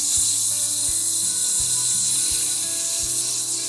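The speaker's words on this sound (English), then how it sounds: "And I'm using a 150 sandpaper right now, starting out." Wood being hand sanded with 150-grit sandpaper, a close, steady scratchy rubbing with rhythmic back-and-forth strokes roughly every half second, alone with no talk.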